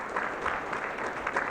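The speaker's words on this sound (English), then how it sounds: "one more round of applause for those 2 little ones" Audience applause at an evening education conference, a steady wash of clapping from a large crowd filling the whole stretch without pause, fairly loud and with no talking over it.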